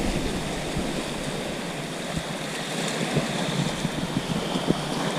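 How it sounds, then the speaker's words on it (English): Sea waves surge and wash continuously around an old shipwreck at Saltwick Bay on the Yorkshire coast at high tide, a steady broadband roar with a few sharper splashes, no voices. "Here's the old shipwreck getting battered by the waves."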